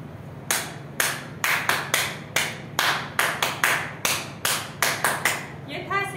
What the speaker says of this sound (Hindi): तो सबसे पहले शुरुआत करेंगे हम तीन ताली से